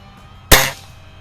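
One sharp, loud shot from a Crosman Optimus .177 break barrel pellet rifle firing a light 7-grain pellet in a backyard, a crisp crack with a short decay, heard alone against quiet surroundings.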